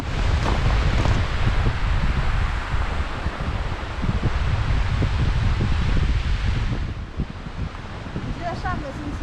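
Strong wind gusting across a Rocky Mountains lake in the Kananaskis area, a loud, steady roar of broadband noise with buffeting on the microphone and a slight lull near the end.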